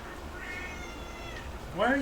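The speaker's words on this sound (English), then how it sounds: "meowing is when they want something" A house cat meowing near the end, a short rising, tonal cry following a stretch of low background noise, fairly close and loud.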